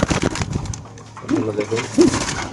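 Racer pigeons give two short, soft coos close by, the second a little louder, with a person talking underneath and other voices in the background.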